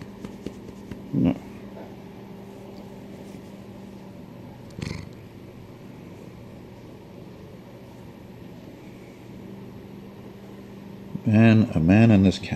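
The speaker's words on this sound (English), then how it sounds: "She loves to meow for the camera," A cat meows close up, a short cry early and a longer wavering yowl at the end, with a brief voice in between over a quiet room hum.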